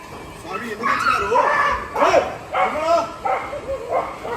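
Dogs bark and yip in short repeated bursts under continuous chatter and background noise, with people talking throughout at an outdoor gathering.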